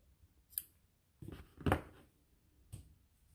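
Scissors snipping off crochet yarn after the final slip stitches around a crossed stitch placemat: a couple of quiet, soft clicking cuts close by, with no talk.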